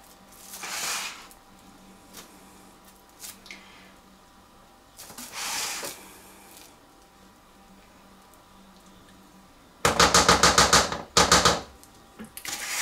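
A spatula is tapped against a Thermomix bowl to free it, giving soft scraping sounds followed by a quick run of close, sharp taps in two short clusters.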